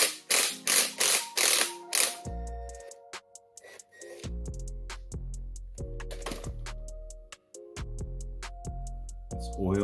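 Repeated metallic clicking of a ratchet wrench working a 10mm oil drain bolt loose on a 1985 Honda ATC 250R, the bursts of ticks coming in short close strokes with pauses between them and no talking.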